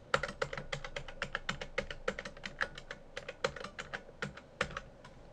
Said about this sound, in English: So we'll just start typing this in.